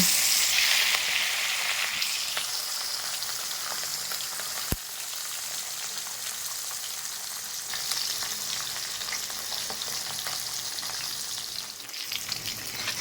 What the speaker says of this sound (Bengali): তেল গরম হয়ে উঠেছে এবার মাছগুলো দিয়ে দেব